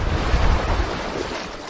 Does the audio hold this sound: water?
yes